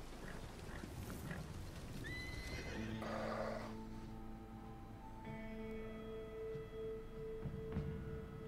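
Horse from Red Dead Redemption 2 on Xbox, a high whinny rising and trailing off into a steady sustained neigh, with soft clip-clop of hooves and a low game ambience underneath; no one talks.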